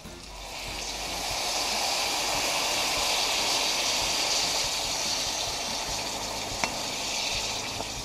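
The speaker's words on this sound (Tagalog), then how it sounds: "halu-haluin lang po natin hanggang magisa ng kaunti yung ating sibuyas" Onions sautéing in a pan for a Filipino hotdog bistek-style dish, a steady dense sizzle that swells and holds throughout, close up, with a faint scrape of stirring near the end.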